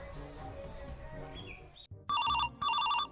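A telephone rings electronically in two loud bursts with a short gap, following a stretch of muffled background noise.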